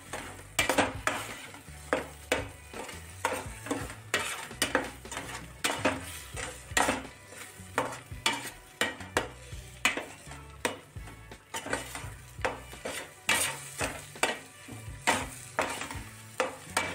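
Eggs for masala egg bhurji are beaten briskly in a bowl, a fast rhythmic tapping and clinking of utensil against the dish repeating close up throughout, with no voices.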